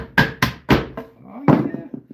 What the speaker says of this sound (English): Can I just wooden hammer that one in?